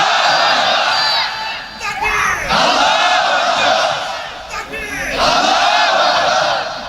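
At a nighttime Islamic sermon gathering, a large crowd answers a takbir call by shouting Allahu Akbar in unison: loud, sustained collective cries in a few waves, with brief gaps between.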